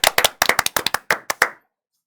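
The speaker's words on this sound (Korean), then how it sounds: "박수 한번 줘야지" An audience claps hands about a dozen times in quick, uneven bursts, crisp and close, then stops abruptly into silence.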